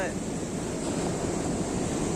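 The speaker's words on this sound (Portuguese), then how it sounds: "Umas ondas legais e ela é funda já no início, né?" Ocean waves at a beach in Rio de Janeiro, a steady broadband wash of surf with wind noise on the microphone, continuous and fairly close throughout.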